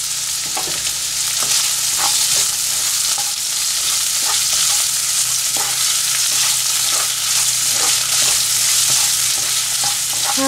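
Chopped red onion and soya chunks fry in a pan with a continuous close sizzle, broken by the sharp scrapes and clicks of stirring scattered through; no one speaks.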